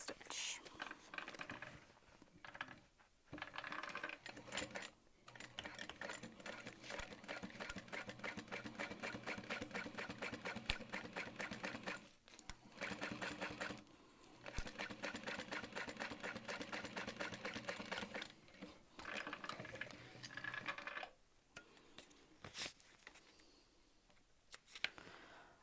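A sewing machine top stitching a crossbody bag runs in long steady rattling bursts with brief pauses between seams, fairly quiet and close, with a voice faintly present at times.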